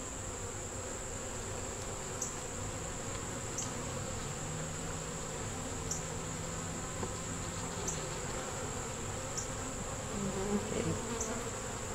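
Honey bees hum continuously around an open hive in a dense, steady drone close by, with a brief spoken word near the end.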